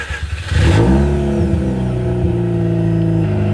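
A Mazda RX8 rotary engine cranks briefly, catches and fires, then revs up and settles into a loud, buzzy, slightly uneven high idle close by.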